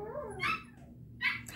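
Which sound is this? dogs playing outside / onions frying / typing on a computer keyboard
dogs playing outside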